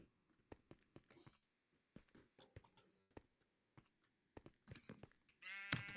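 Two sheep in a block-building survival game give short bleats near the end, following a scatter of quiet clicks and footstep-like ticks.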